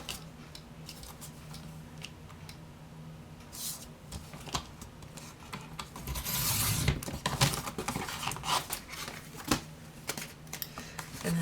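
Masterboard paper for junk journaling is cut to size in a series of soft, close snips and rustling paper handling, with a louder stretch of cutting and scraping partway through.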